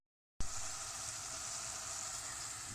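Food fries in a mix of olive oil and butter, a bright sizzle that cuts in abruptly after a brief silence and then holds steady and close.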